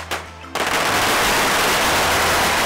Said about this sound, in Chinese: 爆竹响连天